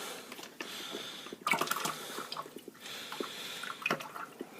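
Concentrated wine grape juice from an Italian wine kit pours slowly into a primary fermenter, a soft, steady liquid trickle with a few splashy bursts partway through, fairly quiet and without talk.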